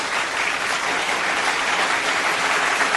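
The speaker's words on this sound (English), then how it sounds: "Give them clap for that." An audience claps steadily and loudly, a continuous dense patter of many hands that holds evenly for a few seconds without any voices over it.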